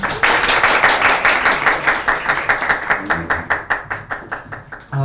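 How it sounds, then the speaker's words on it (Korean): An audience at a church talk event claps to welcome a guest speaker to the stage. Dense, loud applause gradually thins into sparser, rhythmic claps that fade toward the end, with no talking. "박수로 맞아주세요"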